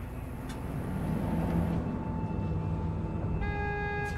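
A car rolls into a border checkpoint in the video game Cyberpunk, a low steady engine rumble with mechanical hum, joined by faint tonal beeps near the end, with no voices.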